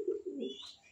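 A pair of red checker racing pigeons coo softly at close range, a low murmuring coo with a brief higher chirp toward the end, in a quiet loft.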